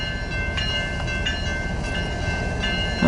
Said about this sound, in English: this is the 6th loaded coal drag that I've seen here on the BNSF transcon line